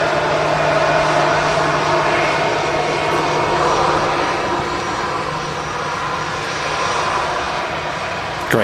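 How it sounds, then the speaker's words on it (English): Airbus A319 engines at Manchester Airport give a loud, steady roar with a broad rushing wash and a low sustained tone, holding constant throughout without voices. "Great sound there from the A319."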